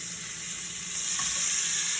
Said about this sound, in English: you're gonna hear a big sizzle